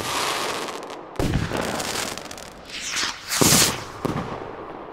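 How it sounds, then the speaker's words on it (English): Fireworks crackling and popping in loud, sharp bursts with bright hissing and fizzing between them, a busy, close cluster of reports and no talk. "fireworks"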